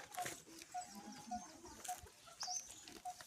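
Goats and kids in an enclosed goat-rearing shed give soft, fairly faint calls over a constant rustling background, with a few brief high chirps scattered through.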